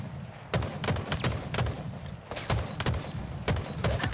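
Video game gunfire rings out in a rapid series of sharp cracks, roughly a dozen shots in uneven bursts, fairly close against a low background with no clear voices.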